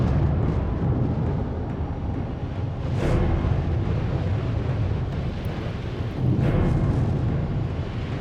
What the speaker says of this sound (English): the booming sounds of the volcano.